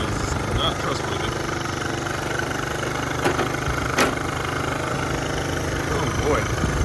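A 1970 Honda Trail 90 motorcycle engine runs at a steady idle, close by and continuous, with a couple of sharp clicks partway through and no speech over it.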